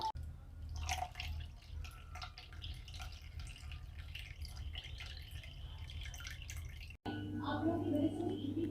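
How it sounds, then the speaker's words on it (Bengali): Water strained through a sieve off crabs being prepared for a thola tok recipe makes a steady close trickling and dripping, partly masked by a low background hum, growing briefly louder near the end. "এইভাবে ছাঁকনিতে দিয়ে জলটা ছেঁকে নেব।"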